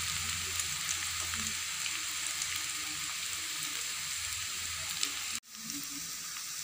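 Poha vada deep frying in hot oil, a steady dense sizzle with bubbling that runs loud and continuous, briefly cutting out near the end before resuming.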